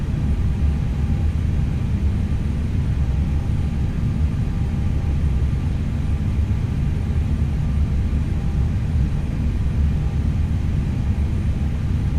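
An airliner taking off in a flight simulator produces a steady, loud low engine roar and rumble that holds evenly throughout with no talking.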